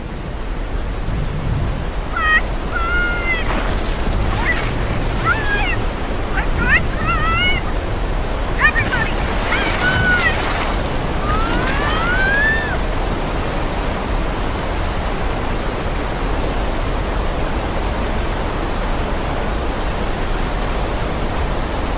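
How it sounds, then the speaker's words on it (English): A staged rain and flood effect on a film set: heavy rushing water hisses steadily, like downpour and surging flow, while high squeals and chirping cries sound briefly near the start. "how we make rain and floods happen on set"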